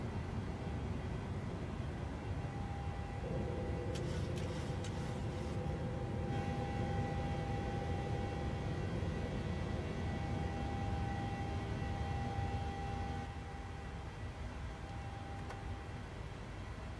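A Jet2 Boeing 737 in Microsoft Flight Simulator climbs out with its landing gear retracting, a brief mechanical rush near the start riding over a steady, loud engine roar that holds throughout.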